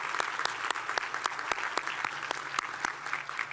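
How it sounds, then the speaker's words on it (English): A crowd at a dental school white coat ceremony applauds the staff with steady, fairly soft clapping heard from a distance, with no talking over it. "So I want to give them a nice round of applause."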